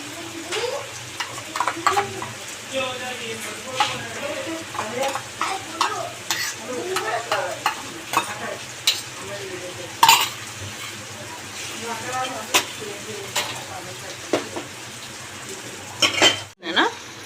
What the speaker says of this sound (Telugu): ఆయిల్లో వేసుకుంటే ఉంటే అల్లం వెల్లుల్లి పేస్టు బాగా వేగిపోద్ది